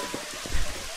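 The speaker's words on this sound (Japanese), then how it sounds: "雨だね。" Steady rain falling in a scene from the video game Dragon Quest XI, a continuous close hiss of drops with no breaks and no one speaking over it.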